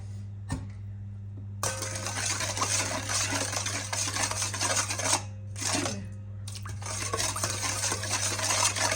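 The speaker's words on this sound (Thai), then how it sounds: "คนให้มันเข้ากันละลายเข้ากัน" A spoon stirs a seasoning mixture in a bowl until it dissolves, with steady scraping and clinking running through most of the clip over a constant low hum, broken by a few short pauses.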